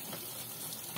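Running water rinsing air conditioner filters, a brief soft gush and splash heard faintly and steadily.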